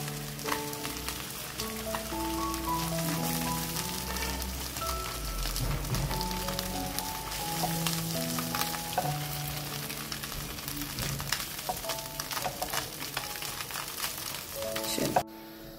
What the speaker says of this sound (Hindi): और फिर हम सेकंड साइड पे फ्राई करेंगे।